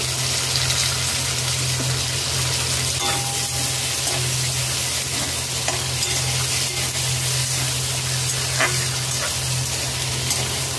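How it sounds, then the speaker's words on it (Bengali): Paneer sizzles steadily in hot oil in a pan as chopped tomato is added and stirred, a loud, continuous frying hiss with scraping stir sounds and no talking. "পনির 1 মিনিট ভেজে নিয়েছি। একটি টমেটো কুচি দিয়ে দেব।"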